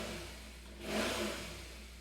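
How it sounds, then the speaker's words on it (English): Motorcycles passing by outside, a single engine swelling up and fading away at moderate distance over a steady background hum, with no talking. "Shit, the motorcycles is really annoying."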